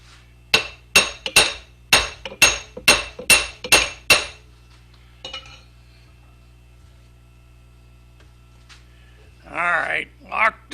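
Sharp metallic hammer blows knocking a thermed salt shaker workpiece loose from a wood lathe, about eight evenly spaced loud strikes, then scattered faint clinks and a short burst of talk at the end.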